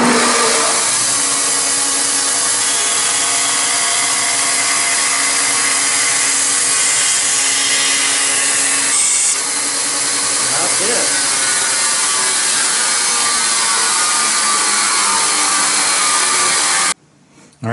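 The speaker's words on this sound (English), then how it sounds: "I'm going to cut the outside diameter with my bandsaw" A bandsaw cuts the outside diameter of a Baltic birch plywood bowl blank with a loud, sustained whine and rasp that changes tone partway through, then the noise stops abruptly near the end.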